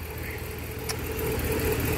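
A Ram truck engine idles steadily after a coolant flush, with a low even hum close by and no talking.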